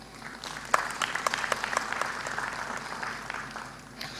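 An indoor audience at an annual member's meeting of Uganda's NSSF savings fund claps for the team, a moderate burst of scattered hand claps that builds briefly and then tapers off.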